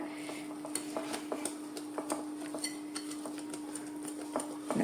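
A spoon clinks and scrapes repeatedly against a bowl while cake batter with a half teaspoon of vinegar is stirred for a small mango cake, irregular close taps over a faint steady hum.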